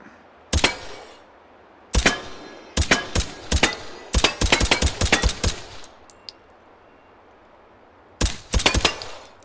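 A suppressed gun in the VR shooter game H3VR fires in sharp bursts and single shots, some in rapid strings, with mechanical clicks and metallic clinks between the volleys and short silent gaps.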